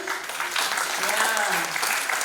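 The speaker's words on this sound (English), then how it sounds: "Can I have a clap from the students?" Students applaud at a university conference valedictory function, a steady wash of clapping running through the whole moment with faint voices mixed underneath.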